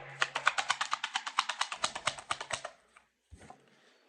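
Tarot cards are shuffled by hand in a rapid, even run of crisp riffling snaps, close and clear, ending in a pause and a couple of softer taps.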